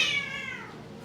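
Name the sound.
cat meowing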